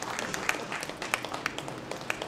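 Audience at a Bapat family gathering claps for a beloved professor, a short burst of steady, fairly close applause with crisp individual claps throughout.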